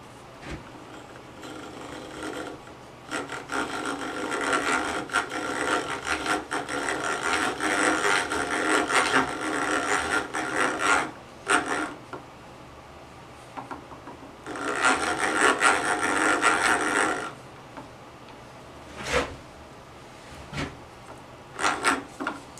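A hand drill bores into wood with a 3/8 inch bit during hand-tool woodworking, long grinding rasping runs broken by brief pauses and short bursts, close and fairly loud.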